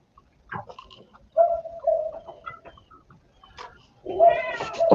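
A cat meows repeatedly in the background, mixed with bird-like cooing and chirps, loudest near the end, while faint voices murmur in between.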